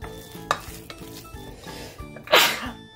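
A single sharp sneeze from pepper bursts out near the end, over steady stirring and sizzling from a pan of meatloaf ingredients.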